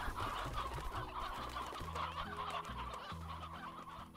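Chickens cluck busily in the Slime Rancher video game, a continuous noisy flock under a soft, steady background music track.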